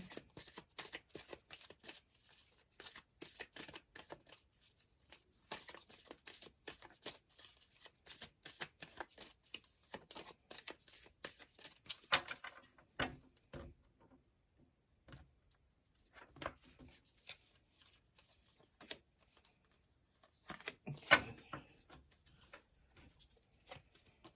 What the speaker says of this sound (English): They were me being careless with shuffling.